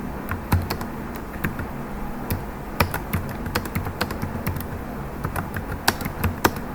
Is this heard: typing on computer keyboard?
yes